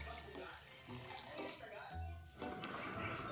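Water pours from a tap into a cooking pot of tender buffalo meat for Filipino sinigang, a steady running splash at moderate level with brief breaks and a voice talking over it.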